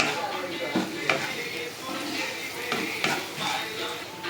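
Ground spices (salt, turmeric, chili, cumin and coriander) sizzle steadily in a hot pan for a goat brain fry, with a few sharp stirring scrapes and clinks over the constant close frying hiss.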